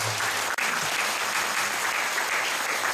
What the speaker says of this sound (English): Give God the best clap of praise.